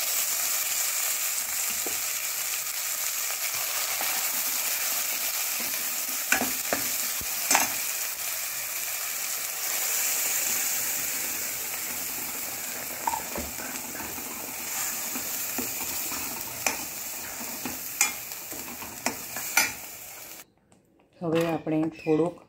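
Gravy stirred into a sizzling pan for palak paneer, a continuous hiss of frying with scattered spoon clinks and scrapes, close and steady, then a brief clatter at the end.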